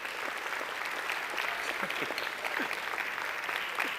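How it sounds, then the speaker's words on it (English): An audience at a lecture on scams and the supernatural gives a steady round of applause, dense clapping held at an even level throughout, fairly distant and moderate in loudness. "Give these guys a big round of applause for cooperating."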